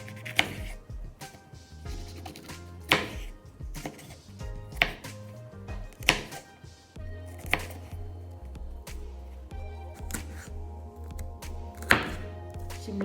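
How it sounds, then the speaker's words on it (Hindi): Half a medium-sized bell pepper being cut with a knife for chicken chow mein, giving a steady run of sharp chopping thunks on a board, close and fairly even, with no talking. "सबसे पहले मैं सब्जियाँ काटूँगी। ये हाफ शिमला मिर्च"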